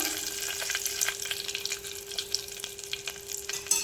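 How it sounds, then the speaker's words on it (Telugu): Curry leaves and turmeric fry in hot oil while a ripe red chilli pickle is made, crackling and sizzling steadily up close with a faint constant tone in the background. "ఇప్పుడు నూనె వేసేసుకుందాం అదిగోండి కరివేపాకు వేసాను వేగింది"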